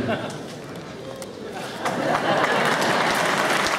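Crowd applause at a table tennis gala swells and grows louder partway through, a steady wash of clapping with some voices mixed in.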